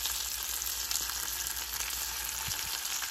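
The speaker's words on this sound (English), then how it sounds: "the bacon is the first thing that I cook up. So I get that going in the pan, get it all perfect and golden." Bacon frying in a pan, a dense, steady crackling sizzle heard up close and continuous throughout, with no voices over it.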